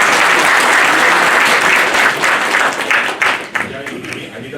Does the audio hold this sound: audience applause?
yes